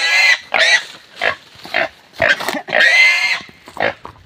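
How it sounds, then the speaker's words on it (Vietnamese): A freshly caught wild boar squealing loudly and close, in repeated harsh shrieks and grunts with short gaps between them. "Bắt được lợn rừng."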